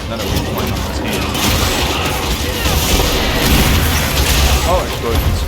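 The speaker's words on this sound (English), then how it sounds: "Oh, explosions." Explosions go off during a monster fight in the video game Monster Hunter Wilds against a lightning dragon, dense booming crashes layered with game sound effects at high volume, while a player talks over them.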